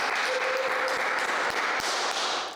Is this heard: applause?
yes